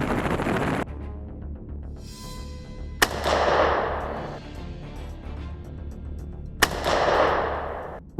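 Two sharp, loud gunshots ring out several seconds apart from a helicopter shooting at feral hogs in Texas, each one followed by a rumbling echo over a steady background of engine and rotor noise.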